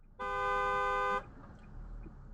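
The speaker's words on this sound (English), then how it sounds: "Did you not hear me honk at you?" A car horn blasts in a single sustained honk of about a second, loud and close, then cuts off to leave low road and traffic rumble.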